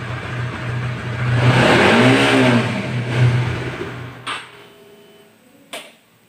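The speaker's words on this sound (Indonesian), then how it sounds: "Namun ketika RPM dinaikkan, kita tarik tuas gas." Close, loud revving from a Honda CB150R motorcycle engine with a stalling fault: the throttle is opened and the revs swell, then the engine fades and cuts out, with two short knocks afterward.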